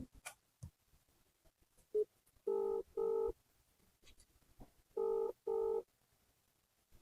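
An outgoing phone call to a veterinary doctor rings through the handset as paired electronic ringback tones, two pulses, a pause, then two more, faint background otherwise quiet and no one speaking.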